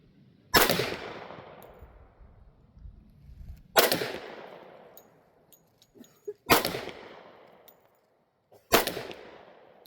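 A Girsan MC 1911 10mm carry pistol fires four loud, sharp shots at irregular intervals, alternating 200-grain and 180-grain hollow point rounds, each crack followed by a decaying outdoor echo.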